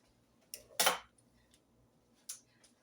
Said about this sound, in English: Never fear, I shall grab a larger knife.